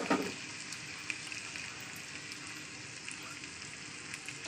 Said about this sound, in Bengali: চলুন এর উপরে আমি এবার ডিমটাকে দিয়ে দেবো